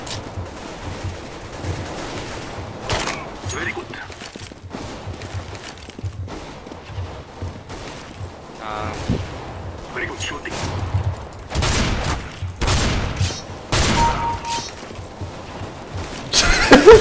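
Video game gunfire in scattered bursts and single shots, some near and loud and others softer, mixed with thuds and movement sounds, with people talking over it.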